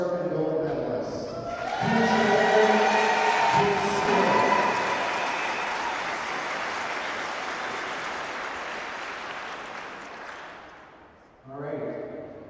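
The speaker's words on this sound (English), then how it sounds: "Round of applause to our silver and gold medalists." An indoor crowd applauds silver and gold medalists at a women's curling championship final, a sustained wash of clapping that swells, holds, then fades, with a voice speaking at the start and end.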